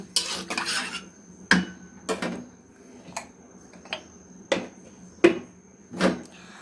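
Potatoes going into a hot pan and being stirred, irregular spoon scrapes and clinks on the pan spaced over a few seconds above a faint, low sizzle.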